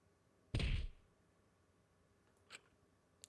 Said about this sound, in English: A dull thud resounded through our skulls.